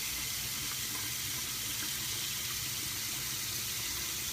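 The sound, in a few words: hot water running from tap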